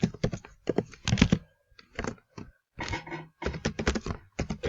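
Keys on a computer keyboard are tapped in quick clustered bursts with short pauses between, close and clear in a quiet room.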